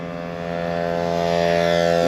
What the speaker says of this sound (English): So just the Pittsburgh air compressor filling her up